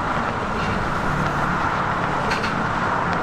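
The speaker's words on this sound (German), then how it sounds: "Aber davor ist es richtig laut, besonders wo dann die Verbindung ist. Wenn die Autos hier rüberfahren." Steady, loud rumble of road traffic passing close by on a bridge, with occasional thumps as vehicles roll over the bridge's expansion joint.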